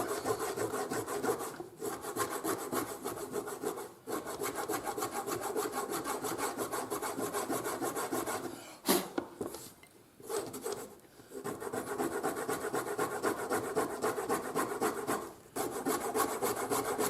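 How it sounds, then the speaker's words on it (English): Steady scraping of a tool across the joint of a braided leather belt, a continuous close rasping rub with a few brief pauses, heard alone without talk. "So this joint here, just scrape it."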